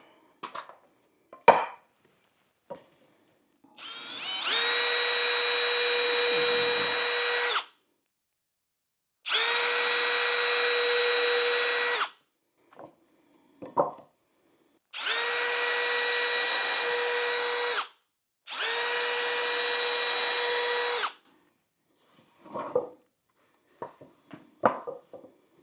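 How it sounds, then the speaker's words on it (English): A power drill with a thin bit bores holes while a cheap DIY desk is built, giving four steady whining bursts of about three seconds each, with handling knocks and clicks in between, close and loud. "So we're gonna put a couple holes here, and we're gonna put a couple holes in the other one."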